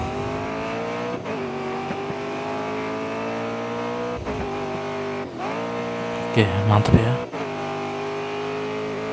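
Race car speeding in GRID Autosport Custom Edition mobile, a steady high-pitched engine whine held at speed with a brief burst of tire and impact noise near the end, under a voice speaking Indonesian.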